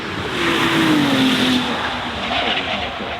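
A Ferrari 296 GTS, a plug-in hybrid V6, accelerates past with a loud, rising engine note that sweeps and fades, alone without talk.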